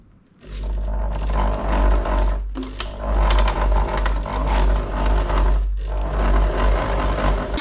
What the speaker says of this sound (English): So a couple of forward and back stitches just to start it off.